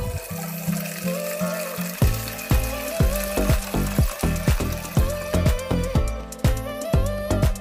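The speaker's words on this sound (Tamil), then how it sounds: "இதில் தண்ணி ஊற்றி நல்லா அலசி" Mint leaves are rinsed by hand in a bowl of water for a mint and coriander chutney, giving repeated rhythmic sloshing and splashing strokes, close and moderately loud, with no talk over them.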